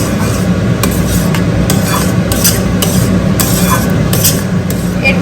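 Curry with sour curd cooking in a pan over a low gas flame, giving a steady loud sizzle with repeated stirring scrapes and clinks throughout.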